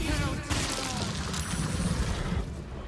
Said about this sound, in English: But we can certainly drop a Sleet Storm.